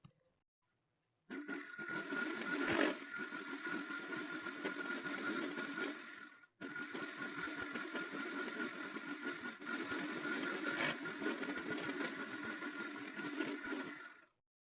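Sewing machine running in two long continuous bursts while stitching the frills of a two-layer frock, a steady close mechanical whir with a brief pause between runs.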